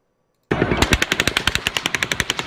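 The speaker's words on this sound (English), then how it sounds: "you notice that this gun actually is still shooting when this gun stops going off" Automatic gunfire from the Route 91 Las Vegas shooting breaks a brief silence as a rapid, evenly spaced burst of roughly twenty loud shots rattling on without pause.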